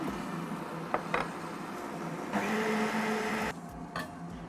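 An electric mixer whirs steadily as it beats milk, vanilla and sugar into cake batter, its motor note jumping to a louder, higher speed partway through, with a few small clicks and knocks.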